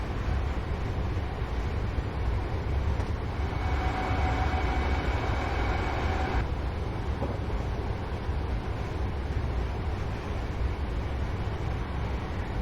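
A train in Train Simulator 2018 on the Motherwell to Glasgow Central route runs steadily at around 60 mph, with a continuous low rumble and a sustained mid-pitched whine from about three to six seconds, and no talk over it.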